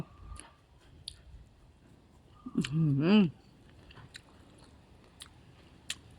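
Crisp bites of canned-fish and banana salad crunch close to the mic, a few sharp clicks spread across a quiet room, and a brief hummed murmur of approval sits in the middle.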